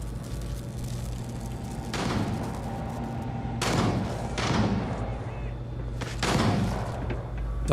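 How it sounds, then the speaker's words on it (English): Gunfire in the Starfield Shattered Space game: several loud broadband bursts at intervals over steady ambient game hum, with no one talking. "Somebody's shooting something."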